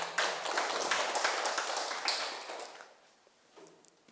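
Audience at a Korean Sunday Dharma talk claps together in a brief burst that is loud at first, then thins out and fades to a few scattered claps.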